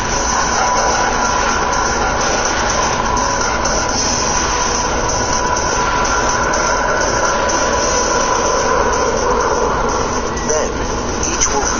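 A formation of jet aircraft at an air show produces a loud, steady broadband roar that stays constant throughout, with a narrator talking over the engine noise.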